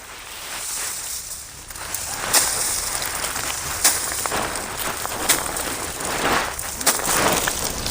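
Steady rain pattering outdoors in a village setting while lentil pods dry in the sun, a continuous broadband hiss with occasional louder drops or taps, moderately close, with no talking.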